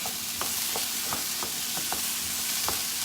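Frozen peas and mixed vegetables sizzle steadily in a hot pan for a pie filling, with a spoon scraping and stirring in several distinct strokes over the constant frying hiss.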